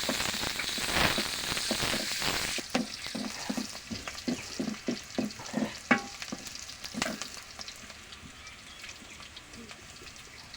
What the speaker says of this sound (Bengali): লাল করে ভেজে নিব আমি।